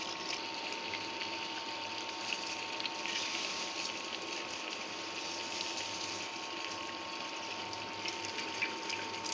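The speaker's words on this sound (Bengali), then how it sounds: "পোলাও চাল ধুয়ে রেখে দিচ্ছি" Polao rice being washed in water gives a steady, close wash of sloshing and running water with a faint tonal hum beneath, continuous throughout with no speech.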